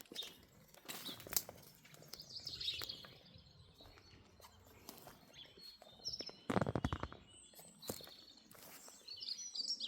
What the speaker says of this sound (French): Là, c'est les oiseaux.